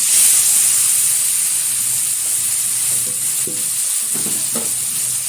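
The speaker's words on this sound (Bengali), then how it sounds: "চিংড়ি মাছটা হালকাভাবে ভেজে নেব" Prawns fry lightly in a pan with chili, black cumin and turmeric: a steady, close, loud sizzle with a bright hiss throughout, broken by a few brief stirring scrapes near the end.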